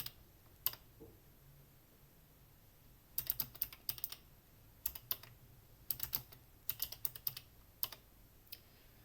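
A command typed on a computer keyboard, sparse key clicks at first, then quick bursts of clustered keystrokes in short runs, close and crisp in a quiet room.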